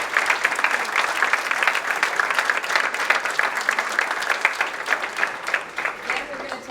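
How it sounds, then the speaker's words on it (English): Audience applause at a city council candidate forum, a steady dense patter of many hands clapping throughout, fairly loud and close, with no speech over it. "Ladies and gentlemen, please a round of applause."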